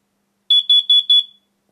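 Shrill electronic beeping from a carbon monoxide alarm during a test: four rapid, evenly spaced pulses, loud and near, alone in an otherwise quiet room.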